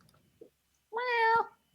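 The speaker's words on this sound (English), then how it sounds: "You have a cat named Steve" A cat gives one clear, drawn-out meow close by, preceded by a faint short chirp and a quiet room.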